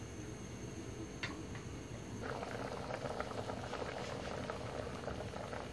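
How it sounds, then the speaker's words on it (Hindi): Jamun fruit boiling in water in a covered pot, a continuous bubbling simmer that grows busier halfway through, with occasional small ticks and rattles close by. "10 से 12 मिनट हम इनको अच्छे तरीके से बॉईल कर लेंगे ताकि इसमें से ये गुठलियां निकल जाएं।"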